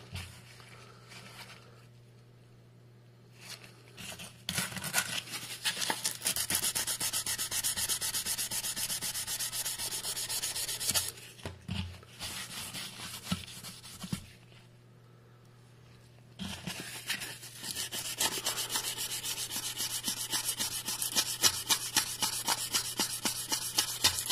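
An aluminum wheel is sanded by hand with 1000 grit sandpaper in rapid rhythmic rubbing strokes, close and fairly loud, in long bursts broken by short pauses, over a low steady hum.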